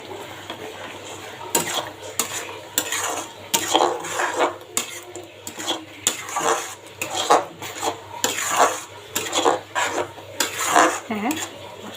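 Bhuna khichuri sautés in a pot with oil, bay leaves, cardamom and garam masala; a spoon scrapes and knocks against the pot in an uneven rhythm over a soft sizzle.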